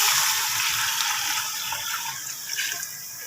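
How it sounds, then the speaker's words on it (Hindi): Water is poured into a pot of spiced spinach and potato curry masala, a steady, rushing splash that continues throughout and eases slightly toward the end. "हम इसमें शामिल करेंगे पानी"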